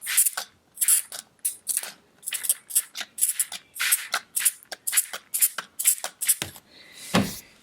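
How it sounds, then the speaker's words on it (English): Spray bottle misting water onto a watercolour painting: a rapid series of about twenty short, crisp hissing spritzes in uneven rhythm, close and fairly loud, with one longer burst at the end. "And now I'm going to spray this again."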